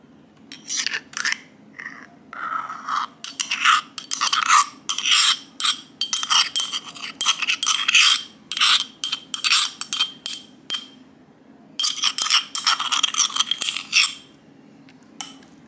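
Almonds are pounded and crushed coarsely in a bowl, making close, gritty rasping and clinking bursts in an uneven rhythm with short pauses, alone without talk.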